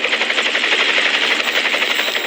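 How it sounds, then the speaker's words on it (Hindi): Steady, loud rotor roar and pulsing whir from helicopters arriving low over a compound in Abbottabad at night, a dense wash of engine and blade noise without pause. "तभी दो हेलीकॉप्टर एबटाबाद की इस गुमनाम हवेली पर आकर ठहर जाते हैं"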